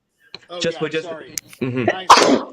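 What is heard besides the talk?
sneeze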